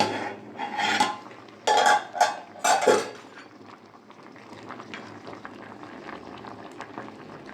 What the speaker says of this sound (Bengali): ঢাকা দিয়ে সব সেদ্ধ করে নেবো।